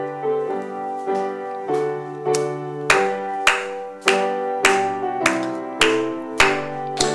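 A church congregation claps along while singing a hymn at a Wednesday prayer service, with regular rhythmic claps over sustained sung or organ-like tones, moderately loud and close.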